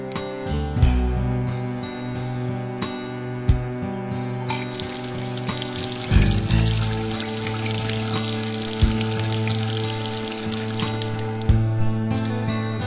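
Steady water running from the main tap of an old public wash-house fountain in Pampilhosa, a continuous splashing stream into a basin with a few louder gurgles and knocks, close and constant throughout.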